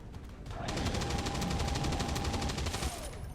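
XCOM 2 Long War of the Chosen area suppression fire rattles out as a sustained rapid burst of automatic gunfire lasting about three seconds, loud and continuous with no talk.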